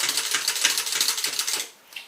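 A hand-cranked sewing machine stitches a tote bag in a rapid, even clatter of needle strokes. It stops abruptly near the end, and one short mechanical click follows.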